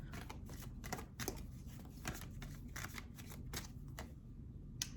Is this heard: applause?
no